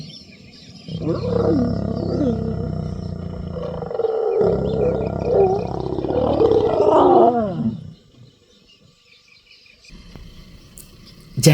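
A lioness in the Kalahari roars in a long, loud series of deep, rhythmic grunting calls close by, ending abruptly into quiet with faint insects chirping behind.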